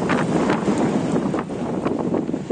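Strong wind buffets the microphone while fishing from a boat at sea, a loud continuous roar with gusty surges throughout and no talking.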